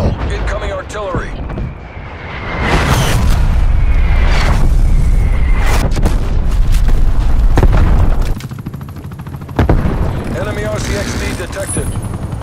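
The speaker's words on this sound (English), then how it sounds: "Hostile artillery throwing target frag. Active. Net call. Incoming artillery." Heavy artillery blasts rumble and boom in the Call of Duty: Black Ops Cold War video game, a dense sustained barrage with sharp cracks and gunfire over a loud low roar, with game voice callouts heard at times.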